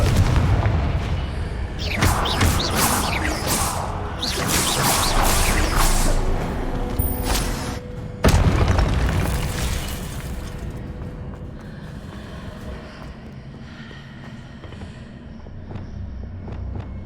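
A Confringo blasting spell detonates in Hogwarts Legacy, a loud booming explosion with a sharp second blast near the middle, then a rumbling tail that fades into quieter game ambience.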